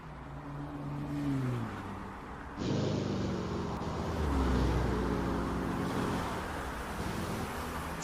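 Car engines rev and accelerate in GTA 5, loud and steady over roughly eight seconds, with rising and falling engine pitches and a louder surge partway through, with no talking.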